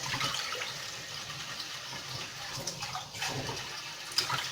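Water pours into a cooking pot for vegetable soup, a steady broadband splashing and trickling that runs continuously at moderate level, with no voices.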